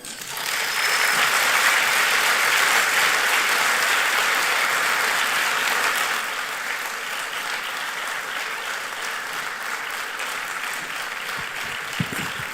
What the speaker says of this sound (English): another round of applause is appreciated in this moment